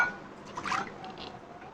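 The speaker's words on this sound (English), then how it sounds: "And then I will pour some water." Water poured into a container for a children's lamp craft project gives a soft, brief, close trickle and splash. It is faint and quick and heard on its own.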